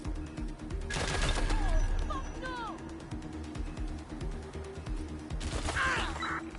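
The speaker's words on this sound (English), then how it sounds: "I'm under fire here!" Video game gunfire in Watch Dogs Legion: loud rapid bursts of shots and impacts with sharp metallic pings, sounding under game voices and a steady background hum.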